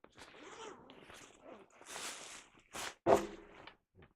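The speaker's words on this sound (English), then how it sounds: "It's a zipper." A zipper on a bag full of comics is pulled in a couple of quick, quiet rasping strokes among soft handling rustles.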